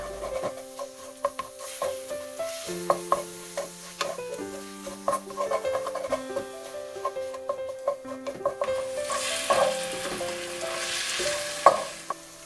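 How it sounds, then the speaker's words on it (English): Fried eggs stirred in a pan for cauliflower fried rice, with soft scraping and a light sizzle running steadily under prominent background music, brief clicks of the utensil scattered throughout. "When the eggs are fried enough, stir it up."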